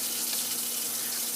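Water runs from a tap while skin is washed with Moroccan black soap (savon noir), a close, steady splashing stream with no one speaking.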